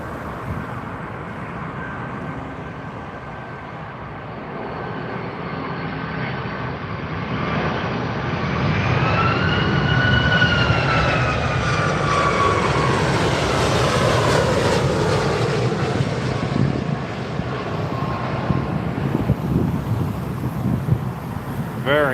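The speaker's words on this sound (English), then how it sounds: "Here comes the special livery Iceland Air 757-300" An Icelandair Boeing 757-300 in special livery landing on runway 27R at London Heathrow gives a steady, rising jet roar that swells past its loudest point and then holds, with wind buffeting the microphone.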